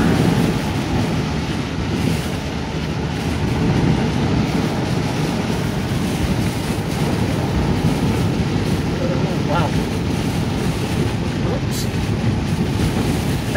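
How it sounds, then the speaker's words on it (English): A Wales storm buffets and shakes an old van, a constant loud roar of wind and rattling body around the cabin, with a deep rumbling undertone throughout and people talking faintly inside. "it is actually the wind shaking the old van"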